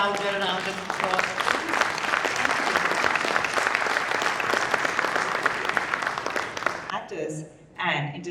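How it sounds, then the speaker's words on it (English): An audience at an international conference on esophageal cancer applauds, a dense sustained clapping that swells and then dies away near the end, where a voice briefly speaks. "Can we have a louder round of applause?"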